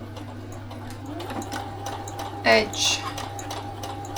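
A sewing machine stitches straps onto an apron, a soft rapid ticking and whirring under a steady electrical hum while someone talks over it.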